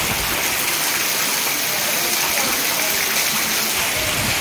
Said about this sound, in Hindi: खावड़ा के अंदर में आज ये पूरा का पूरा ये बारिश हो रहा है